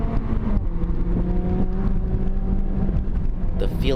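A car accelerating hard on a race track while closing on a Honda Integra, fitted with a big brake kit; a loud, steady engine drone with rising harmonic tones fills the whole clip, close and continuous.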